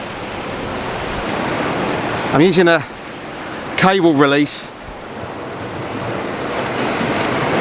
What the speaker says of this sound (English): as the water's draining off of the rock, so after the waves come in and then start to recede.